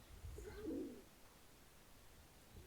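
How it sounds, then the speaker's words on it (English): Two pigeons or doves, a male and female, give a soft low coo near the start, faint against steady background noise. "I think these two birds are about to fuck."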